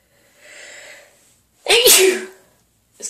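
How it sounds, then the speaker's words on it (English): A person's sneeze bursts out loudly after a soft breathy intake, a single sharp explosive sound followed by a brief trailing noise. "Sneezed again."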